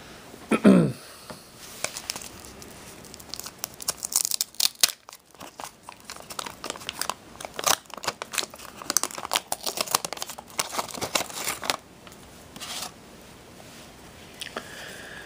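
Foil wrappers of Garbage Pail Kids Series 1 trading card packs crinkle and tear close up in repeated bursts of crumpling and rustling, with a sharper rip near the start and no talking.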